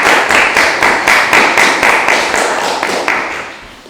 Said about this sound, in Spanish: Démosle una calurosa bienvenida con sus aplausos